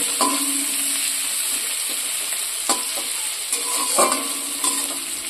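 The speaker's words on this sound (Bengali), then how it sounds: "এবার পেঁয়াজগুলো তেলের সাথে নাড়াচাড়া করে ভেজে নেব।" Chopped onions fry in hot oil in a pan for an egg and soybean curry, giving a steady close sizzle broken by repeated scraping stirs, with no talking.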